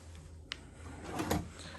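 A hotel room drawer at Disney's Beach Club Resort slides and thumps, with a short knock and then a longer scraping glide, close and fairly quiet, without speech.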